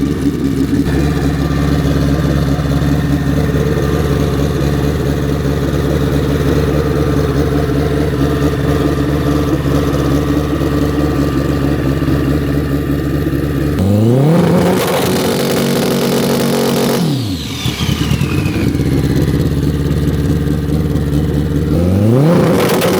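A drag racing motorcycle, the Grudge bike at the Man Cup finals, idles with a steady rumble, then revs hard against a two-step launch limiter in sharp bursts that rise and fall, loud and near.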